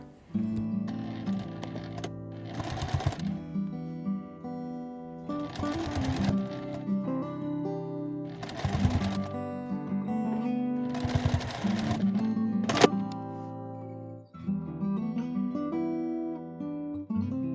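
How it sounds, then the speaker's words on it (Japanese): A sewing machine stitches a patchwork pouch in repeated runs, its rapid mechanical whirring starting and stopping several times, close and steady, with no voices. "反対側も同じようにしてミシンで縫います。"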